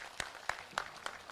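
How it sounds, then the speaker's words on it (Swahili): Four sparse, evenly spaced handclaps ring out faintly at a launch event for the Nairobi City County El Nino preparedness plan, each a sharp short slap against a quiet room. "Tumpigie makofi."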